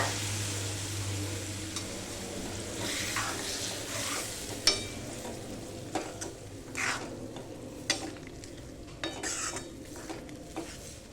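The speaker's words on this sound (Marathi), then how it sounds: "त्याच्यामध्ये आता आपण हे शिजलेला अख्खा मसूर टाकूया." Cooked whole masoor lentils go into a pan of hot masala and are stirred. A steady sizzle runs under scraping and clinking of a spoon against the pan, with a few louder knocks spread through.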